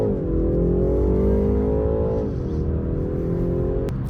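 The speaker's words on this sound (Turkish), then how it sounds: "Şöyle bir gaza basacağım. Tepkilere bakın arkadaşlar." A BMW 330i with 260 PS revs as the throttle is pressed, a loud steady engine drone that climbs slightly in pitch, then drops and holds at a lower tone, heard close without talk.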